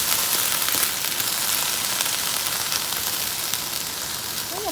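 Black beans and corn sizzle steadily in a hot pan, a dense continuous hiss of frying with faint crackles throughout and no talking.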